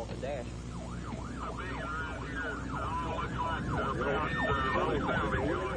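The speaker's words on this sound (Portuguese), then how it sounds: "minha sirene estava ligada" A storm chaser's vehicle siren, heard on the road toward a tornado, repeats a fast rising-and-falling wail, steady and fairly close over a constant rumble of engine and road noise.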